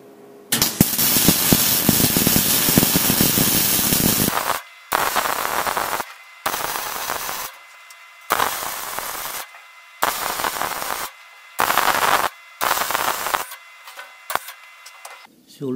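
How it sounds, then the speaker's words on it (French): Steel spot welding on a 35 by 35 profile, heard as a series of loud crackling, sizzling bursts: one long burst followed by several shorter ones separated by silent pauses, close up. "que je vais souder par points, intérieur, extérieur, pour renforcer la partie haute"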